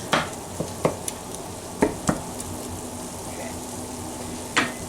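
Ground beef browning in a pan, a soft continuous sizzle broken by several sharp spatula scrapes and taps against the pan, close and moderately loud.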